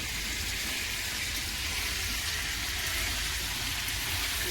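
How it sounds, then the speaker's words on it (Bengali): Cauliflower fries in hot oil with a steady, dense, hissing sizzle that holds evenly throughout, close up and with no voices. "আলু ভাজা হয়ে গেছে, এবারে ফুলকপি ভাজা হচ্ছে।"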